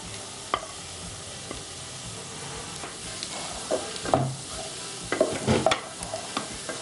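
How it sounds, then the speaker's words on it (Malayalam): Pre-fried chicken pieces are stirred into a sizzling pan mixture, with a steady low sizzle broken by several louder scraping, clattering stirs that cluster toward the end; no voices. "ഇനി ഇതിലോട്ട് നമ്മൾ ഫ്രൈ ചെയ്ത് വെച്ചിരിക്കുന്ന ചിക്കൻ കൂടി ചേർത്ത് കൊടുക്കുകയാണ്"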